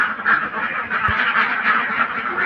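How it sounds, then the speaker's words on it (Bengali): A flock of about 500 ducks at a duck farm quacking continuously and loudly, a dense overlapping chorus of calls close by. "দেখেন, এখানে কিন্তু আপনার 500 পিস হাঁস আছে।"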